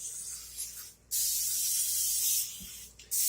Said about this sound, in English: you're going to spray the bottom side of the other pan, and that's to prevent the biscuits from actually sticking